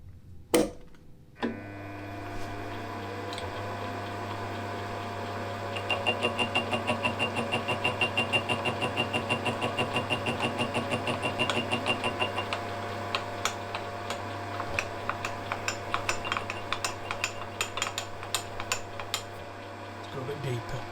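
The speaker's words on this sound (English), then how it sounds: "now I'm just using this gear cutter just to put a line on the end, like a scribe line" A gear cutter on a lathe scribing a line on the end of a metal part for a spring winder: a steady mechanical hum with rapid ticking and chattering of the cutter, growing more irregular toward the end.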